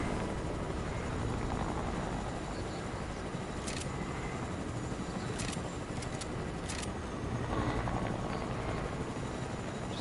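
A helicopter in a video game gives a steady, loud rotor and engine roar that fills the whole stretch, with a few faint clicks on top and no talk.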